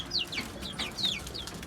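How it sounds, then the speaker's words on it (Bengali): Native chicken chicks in a cage on a rooftop garden peep in quick high chirps, several short calls overlapping, fairly close and clear over a low background hum. "এই যে দেশি মুরগির বাচ্চা রাখছি"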